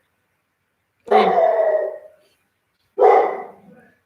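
A dog gives two loud, drawn-out barks close to the mic, each lasting about a second and separated by a short silence.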